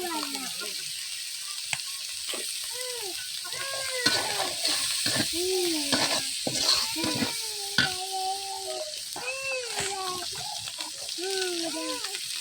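Kolai saag greens fry in a pan with a steady sizzle, while scattered voices and background chatter carry on over the cooking.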